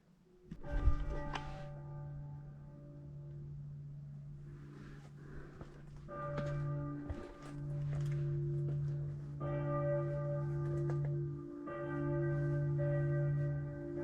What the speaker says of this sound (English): Isn't it amazing how the sound of the bells break the silence of